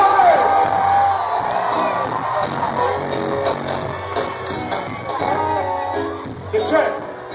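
A concert crowd at the 9:30 Club in Washington, DC cheers, whoops and shouts loudly and continuously, with a mass of voices filling the space and a few louder yells standing out.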